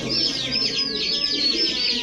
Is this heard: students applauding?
no